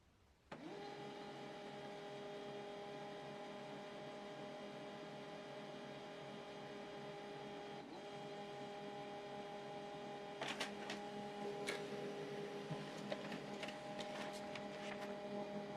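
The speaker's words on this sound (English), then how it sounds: "this printer is connected and we have printed out a test page" An HP LaserJet M140we laser printer runs a test page with a steady mechanical whir and hum that starts abruptly, followed later by clicking and ticking as the page feeds through.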